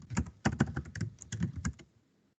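Quick, close bursts of keystrokes on a computer keyboard tap out in an uneven rhythm, then stop, leaving near silence.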